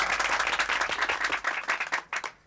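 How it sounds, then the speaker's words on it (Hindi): A crowd applauds in a rapid burst of clapping that fades toward the end, with no talking over it. "तालियां।"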